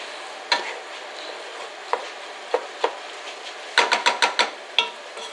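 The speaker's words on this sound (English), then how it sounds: "Just ensure you keep stirring it as I am now, so obviously it doesn't burn." Rice being stirred in a pan, with sharp scrapes and taps of the utensil against the pan scattered through the clip and a quick cluster of knocks near the end, over a faint steady sizzle.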